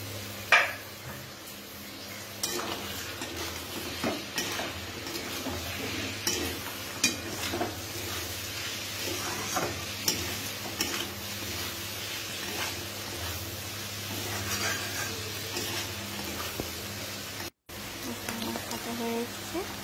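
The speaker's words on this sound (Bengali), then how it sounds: "গাজরগুলোকে ভালো করে ভেজে নেব। এরপর দেব বিনসগুলো দিয়েও ভেজে নেব।" Carrots and beans fry in a pan for mixed fried rice, a soft sizzle under repeated scraping strokes and light clinks of the spatula against the pan.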